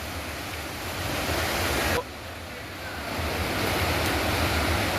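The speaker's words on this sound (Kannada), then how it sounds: "ನೀರು ಹಳ್ಳ ಹೆಂಗ್ ಹೋಗಕತ್ತೈತೆ ನೋಡ್ರಿ" Steady, loud broadband rush of fast-flowing rainwater in a stream during heavy rain in Ballari, continuous throughout with a brief dip partway, close to the listener.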